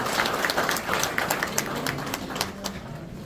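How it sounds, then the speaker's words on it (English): A crowd applauds American Legion Post 832 and its auxiliary unit at a veterans' community gathering in El Paso, moderately loud, with scattered sharp individual claps over a continuous patter that holds steady throughout. "How about a round of applause for American Legion Post 832, their auxiliary unit, and Richard Breeze Britain"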